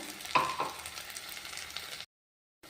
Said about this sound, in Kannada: ಈಗ ನೋಡ್ರಿ ಗೋಲ್ಡನ್ ಕಲರ್ ಬರೋರಿಗೆ ಫ್ರೈ ಆಗ್ಯದಲ್ಲ